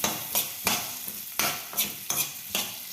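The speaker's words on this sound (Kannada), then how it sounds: "ಇವಾಗ ಇದನ್ನು ಎಣ್ಣೆಗೆ ಫ್ರೈ ಮಾಡ್ಕೊಂಡು" Sliced onions and curry leaves fry in hot oil for a potato curry, a steady close sizzle broken by five or six loud, regular scraping stirs of the spoon against the pan.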